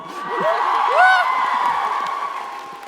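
A live audience at a TwitchCon LGBTQIA+ panel cheers and whoops, the crowd noise swelling to a peak after about a second with high shrill whoops, then sustaining before slowly tapering off.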